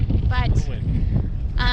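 Blustery wind at an ocean beach buffets the microphone with a constant low rumble, while a few brief whistling tones flicker through it.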